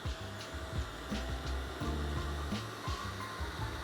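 An electric whisk whips cream at medium-high speed in a steady, continuous motor whir, close and even, running alone for a few seconds.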